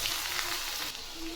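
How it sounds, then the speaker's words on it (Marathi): Garlic, red chilli powder, turmeric and chivda masala hit hot oil for a tempering, giving a loud, continuous close-up sizzle with no talk. "तेल गरम झालं आहे त्यामध्ये आपण घालू लसूण, हे आपले मसाले, लाल तिखट, हळद आणि चिवडा मसाला"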